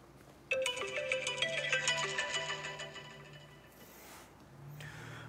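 Phone ringtone plays a bright electronic melody of repeated tones for a few seconds, fairly near and clear, then fades, with faint shuffling afterward.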